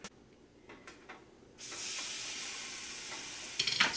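A quiet start with a few soft taps, then a loud steady sizzle of tuna searing in hot olive oil that continues to the end with crackling pops.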